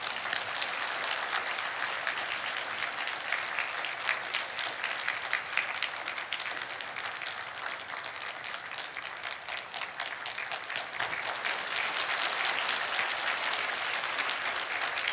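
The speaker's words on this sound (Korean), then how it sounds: "올라오실 때 힘찬 박수로 목사님 환영해 주시기를 바랍니다" A church congregation claps vigorously to welcome the pastor to the stage, a continuous roomful of hands with crisp individual claps standing out, steady and moderately loud throughout.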